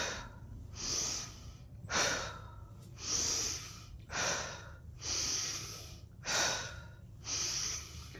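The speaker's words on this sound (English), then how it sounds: "In through the nose, out through the mouth." Slow, deep breaths drawn in through the nose and let out through the mouth, about seven even breathy cycles of roughly a second each, close and steady with no talking.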